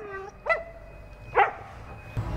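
Two separate barks or yips from a Siberian husky, close and clear about a second apart, then a brief thump at the end.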